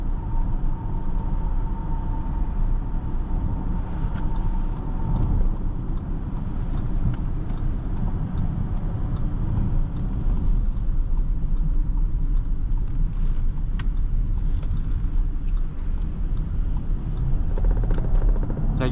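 A 2025 Audi Q7 55 Prestige rumbles along on the road while driving and accelerating, with a continuous low engine and road drone filling the cabin. The sound stays steady and loud, and nobody talks.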